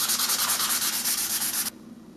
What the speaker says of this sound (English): You can use a piece of sandpaper to do that.